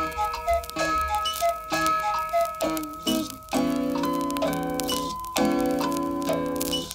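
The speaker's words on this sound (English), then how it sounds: "All of them chiming or whirring or clicking, cuckooing or ringing or tick-tock ticking." An assortment of old clocks chimes in bright, overlapping bell tones, repeated strikes ringing out steadily with ticking beneath, no voices, from a 1967 spoken-word record about Trumpton.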